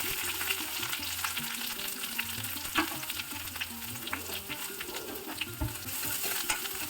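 Ginger fries in a pan with mustard seeds, red chili flakes and curry leaves for a pickle, giving a continuous bright sizzle broken by the clinks and scrapes of stirring. No one speaks.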